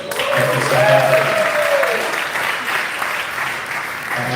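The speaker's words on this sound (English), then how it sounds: "I would ask that you hold your applause as we go." Applause from a delegate audience at a voting ceremony, steady clapping filling the room for about two seconds and then thinning out, with a voice briefly speaking over it.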